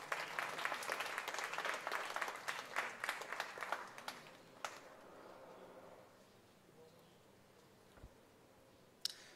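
Applause from an audience at an evening function with the Governor of Goa, fairly faint and distant, dense clapping that swells for several seconds, then thins out and fades to near silence.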